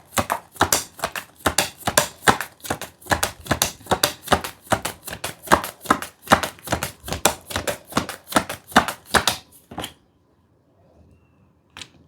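Tarot cards are pulled one after another from a deck, making a long run of rapid, crisp flicks and snaps close by that stops abruptly, followed by near silence and a final faint tap.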